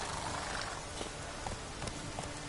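Roach, a horse in The Witcher 3 video game, trots with light, rhythmic hoof clip-clops over a dense background wash of ambient game noise, with no voices.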